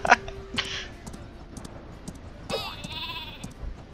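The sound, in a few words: sheep bleating in video game Worms W.M.D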